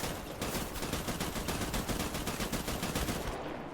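Enemy gunfire in the Death Stranding video game rattles on as a loud, dense, continuous automatic burst for nearly four seconds, close and unbroken, with no talk over it.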